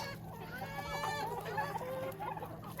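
Free-range chickens kept alongside turkeys cluck and chatter continuously at moderate volume, with overlapping calls from several birds close by.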